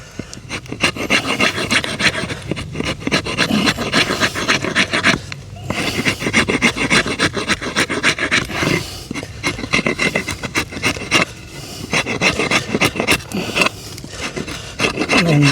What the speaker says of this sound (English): So I've sharpened the old axe up here with the trusty chisel